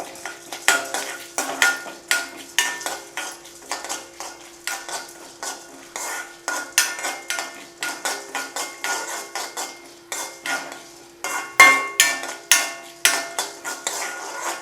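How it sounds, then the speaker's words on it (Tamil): Cumin, fenugreek, coriander and asafoetida dry-roasting in a pan, with a steady run of light scraping and spoon-on-metal clinks as the spices are stirred, close and moderately quiet, with no talking. "நல்லா சிகப்பாக வர்ற வரைக்கும் நல்லா வறுத்துக்கோங்க."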